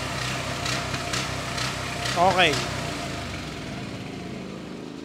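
A quiet home generator with a push-button starter runs at a steady, even idle close by, with a brief rise partway through as someone talks over it.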